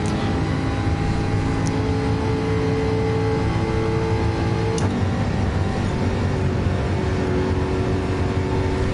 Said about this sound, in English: Quite a few dodgy shifts there, running into the rev limiter.